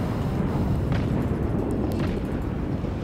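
Naval artillery and torpedo explosions in World of Warships, a dense, continuous rumbling roar of booming blasts with scattered sharp bursts, loud and sustained throughout.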